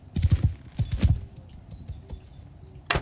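Horse hooves clop in quick uneven bursts in the medieval combat game Mount & Blade II: Bannerlord, loud and close at first, then sparser with faint game effects between, and no speech.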